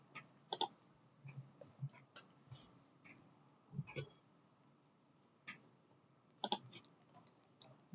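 Sparse computer mouse clicks while navigating to setup and maintenance in Oracle Fusion, single and double taps spaced irregularly and faint against a quiet background.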